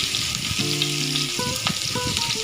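Onion and nigella seeds frying in hot oil, a steady close sizzle with some stirring clatter, with no voices.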